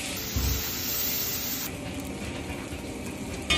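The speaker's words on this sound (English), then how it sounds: "It's sizzling." A plant-based Beyond Burger patty sizzles in a hot pan, giving a steady, fairly quiet frying hiss that runs unbroken for several seconds with no voices.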